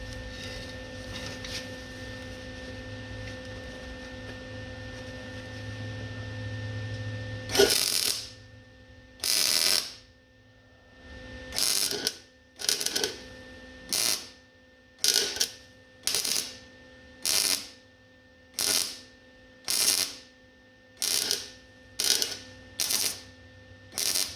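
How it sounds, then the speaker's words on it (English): Welding on a 1948 Chevy truck starts after a steady low hum, then comes in a series of short, loud crackling bursts repeated at an even, roughly one-per-second rhythm. "Let's weld this up"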